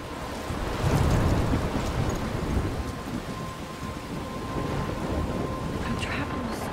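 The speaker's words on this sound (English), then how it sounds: "I'm trapped in a storm?" Thunderstorm in the game Life Is Strange: steady heavy rain with low rumbling thunder rolling through, a constant dense wash of sound with no clear break.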